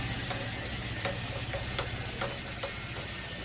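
Curry leaves spit and sizzle in hot oil with ginger garlic paste for a chicken curry, a steady frying hiss broken by regular sharp crackles and pops, close and alone without talk.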